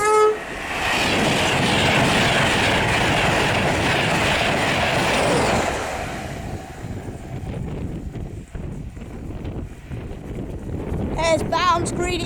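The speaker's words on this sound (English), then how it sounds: "My favourite 225 on a service from Leeds to London King's Cross, 1A26." An Intercity 225 train led by 91119 passes at speed on a Leeds to London King's Cross service at a level crossing, a loud roaring rush with wind buffeting that fades after about six seconds into quieter rumble and a brief horn-like tone near the end.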